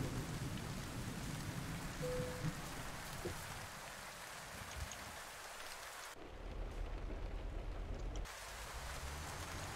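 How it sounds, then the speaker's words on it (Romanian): Rain in Euro Truck Simulator 2 patters steadily and densely on the truck, with a faint low rumble underneath and brief shifts in the background noise. "Și aici plouă, păi da, se putea."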